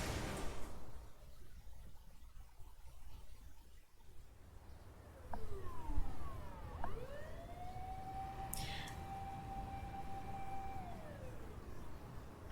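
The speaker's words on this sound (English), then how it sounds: "Achi could hear an ambulance and police sirens wailing on the main road." Police and ambulance sirens wail in 428 Shibuya Scramble in a city setting, rising then holding long steady tones after a quieter stretch, fairly distant and alone.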